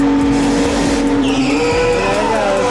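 Formula 1 cars come into the pit lane at Monza with a loud, close engine howl, shifting pitch as they slow and pass, with brief tire squeal and no voices.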